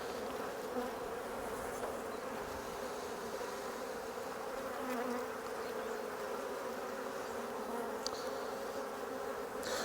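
Honey bees buzzing around an open National hive during a colony split, a dense, steady droning hum from many insects, close and continuous with no speech.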